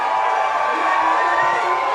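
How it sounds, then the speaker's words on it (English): A crowd cheering at a baseball game along the first base line, a loud sustained roar of many voices filling the stands, steady and dense throughout. "Loud cheers going on here down the first base line"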